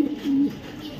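A tiger racer pigeon gives a single short, low coo, close by and on its own with no talking.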